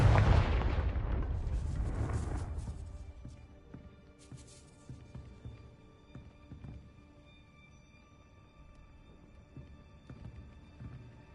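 A Confringo blasting spell goes off in a video game, a loud booming explosion at the start that rumbles and fades over about three seconds, leaving a quieter ambient bed with scattered small impacts.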